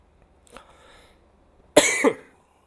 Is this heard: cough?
yes